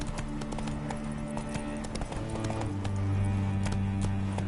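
A horse's hooves clip-clop at a steady walking pace in The Witcher 3: Hearts of Stone, the rhythmic hoof falls heard close over a continuous game music and ambience bed.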